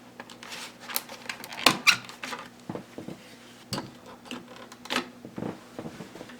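The plastic cover of a Honeywell Smart WiFi thermostat is pried off the wall in a series of close, sharp clicks, squeaks and scrapes over a faint steady hum.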